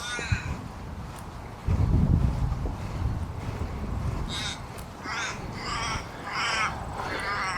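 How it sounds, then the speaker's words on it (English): An old crow cawing in a series of short calls over a playing field beside sports grounds, with steady wind noise and some low rumble underneath. "Old crow hanging about"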